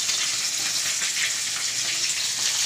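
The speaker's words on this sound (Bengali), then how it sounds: "একইভাবেই ভাজবো আমি মাছগুলো" Fish fries in a hot wok with a dense, steady crackling sizzle, close and continuous throughout, with no voices.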